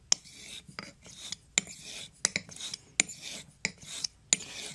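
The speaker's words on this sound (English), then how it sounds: "I'm just going to wipe it and take a look with my loop." A straight razor blade is wiped clean after honing on convex hones, giving a series of short, sharp cloth-on-steel rasps and rubs in an irregular rhythm, close and fairly quiet with no talk.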